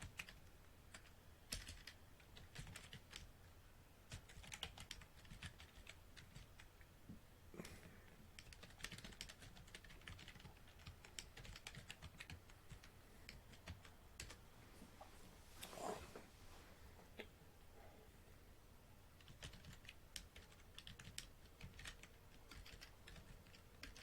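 Steady typing on a computer keyboard runs through a quiet online session, with rapid irregular key clicks close to the microphone. Occasional louder taps stand out, and no one speaks.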